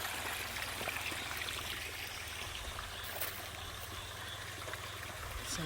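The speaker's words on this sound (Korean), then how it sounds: "옆쪽에서도 이렇게 물이 흐르고" Water runs along an irrigation channel beside farmland in a valley, a quiet and steady trickling flow that continues throughout with no talking.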